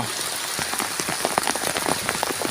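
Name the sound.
rain falling on a sugarcane field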